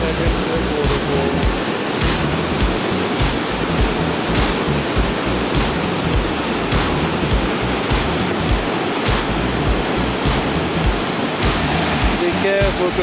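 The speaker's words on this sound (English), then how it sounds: "That is a huge waterfall." Kakabeka Falls in Ontario roaring on a spray-filled afternoon, a loud, dense, unbroken rush of falling water heard up close throughout.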